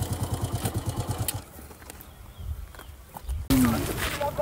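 A moto-taxi motorcycle idles with a rhythmic, close thumping for about a second and a half, then cuts out, leaving quieter background noise and a sudden louder burst with people talking.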